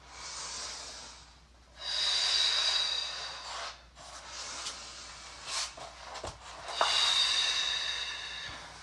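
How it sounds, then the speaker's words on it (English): Slow, deep breaths during a yoga session, long airy inhales and exhales close to the microphone, two or three full breaths with soft hissing air and brief pauses between them. "Take 2 big breaths."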